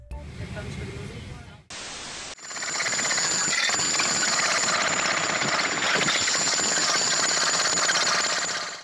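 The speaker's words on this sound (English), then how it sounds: "Using a jackhammer is not as easy as we think." Jackhammer breaking pavement, a loud continuous rattling pound that runs close and unbroken after a brief opening of other noise.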